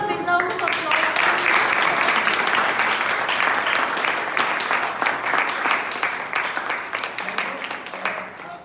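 A Toastmasters club meeting audience breaks into sustained applause, loud and dense clapping from a roomful of people that carries on for about eight seconds before thinning slightly toward the end.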